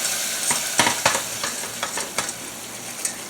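A whisk stirring brown sugar and vanilla extract, producing a quick, irregular run of close metallic clicks and taps over a light continuous hiss, no voices.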